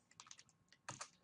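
Fingers type on a computer keyboard while entering code, a quick run of close, soft key clicks with a short pause and then a firmer burst of keystrokes, no voices.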